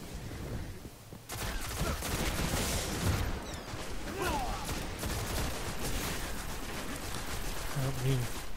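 Rapid bursts of gunfire from a PS4 Destiny Elimination match, dense and continuous with overlapping shots and grenade blasts, fairly loud throughout.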